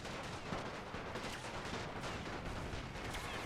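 A WW1 battle in The Great War: Total War mod, with assault infantry in combat, heard as a dense, continuous rattle of rifle and machine-gun fire mixed with distant blasts. The din is faint and steady throughout, with no voices.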